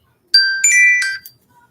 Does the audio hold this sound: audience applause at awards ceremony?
no